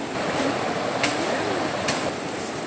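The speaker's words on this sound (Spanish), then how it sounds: "así como está este río, así. Y esto crece más cuando llueve." A swollen, muddy river running high after rain, a dense, steady rushing roar of fast water heard close up with no pauses, plus a couple of faint brief splashes and no voices.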